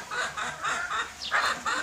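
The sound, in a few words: native Bangladeshi chickens clucking on a farm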